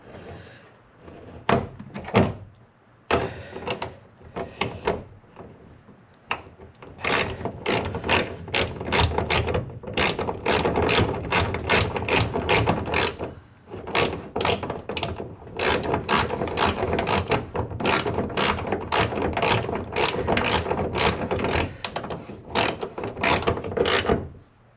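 A hand ratchet clicks rapidly in repeated bursts, tightening a bolt on a Subaru Forester hood strut, the sharp pawl ticks close and loud with short pauses between runs.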